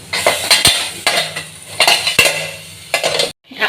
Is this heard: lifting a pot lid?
yes